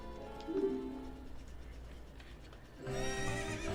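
A horse in the video game Ocarina of Time gives a whinny, a single quiet neigh that rises and falls near the start, followed by a low lull and then a swell of game music.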